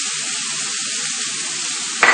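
Onions hit hot oil already seasoned with asafoetida, turmeric and curry leaves, giving a steady, bright sizzle that runs evenly, then jumps in a sudden louder hiss near the end.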